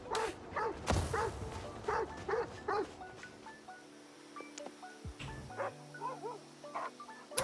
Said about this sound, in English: The dogs are barking at us.